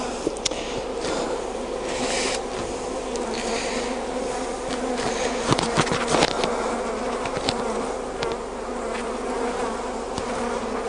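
Dense swarm of honeybees buzzing steadily and close by during a Langstroth hive inspection, with occasional scrapes and knocks of frames.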